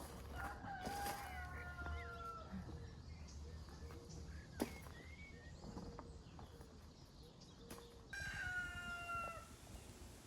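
A rooster crows several times, loud and close, with harmonic calls recurring through the clip over faint outdoor background noise.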